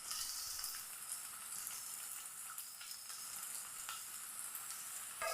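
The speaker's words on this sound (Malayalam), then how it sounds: "പച്ചമുളക് നല്ല പോലെ ഒന്ന് വഴറ്റിയെടുക്കാം" Chopped onions and green chilies frying in a pan: a continuous, even sizzle, soft to moderate and close, with light crackling pops scattered throughout and no voices.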